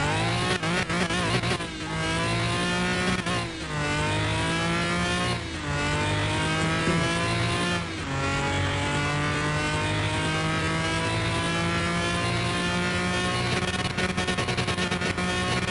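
A Bizzarini race car in Car Mechanic Simulator accelerates hard, its engine revving up through repeated gear changes with rising pitch, loud and continuous throughout with no talk.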